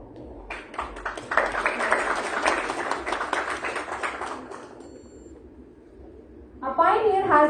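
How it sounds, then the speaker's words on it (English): An audience at an international conference applauds steadily for about four seconds, with even clapping from a moderate distance, before it fades and a voice begins speaking. "Let's have a huge round of applause for sir."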